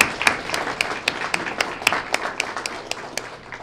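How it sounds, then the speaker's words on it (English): A small audience gives a short round of light, uneven clapping, separate claps ringing out clearly at a student of the month ceremony before fading. "let's give them all a great round of applause"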